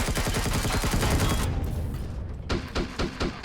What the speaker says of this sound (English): Someone just shot me from behind.